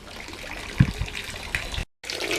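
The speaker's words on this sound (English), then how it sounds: "I like my little waterfall too." Small garden waterfall trickling and splashing steadily, close and fairly quiet, with a few louder splashes before the sound cuts out briefly and resumes.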